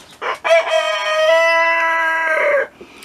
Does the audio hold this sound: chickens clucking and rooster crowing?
yes